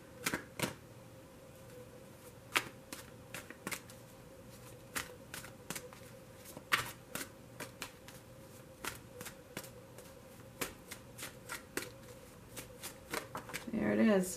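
Oracle cards, an angel romance deck, being shuffled through a tarot reading, giving repeated crisp riffling snaps and flutters at an uneven pace, close and fairly quiet, with a brief rustle of handling near the end.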